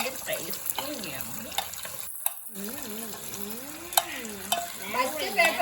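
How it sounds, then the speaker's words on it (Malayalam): Chicken fries Thalassery style in a pan with soft sizzling and stirring, while a tap runs intermittently nearby and a voice speaks at times over the cooking. "ഇങ്ങനെ ചിക്കൻ പൊരിച്ച് വെക്കുന്നത്"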